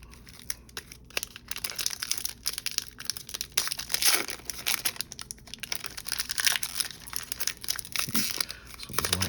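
A Magic: The Gathering booster pack wrapper is torn open at a prerelease party, giving a long stretch of close, crackling tearing and crinkling foil with sharp rips scattered throughout.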